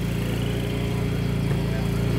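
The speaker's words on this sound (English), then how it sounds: "Looks like someone's bringing a lawnmower over here to sell." A lawn mower engine runs steadily nearby, a loud continuous drone with a low throbbing rhythm that never lets up.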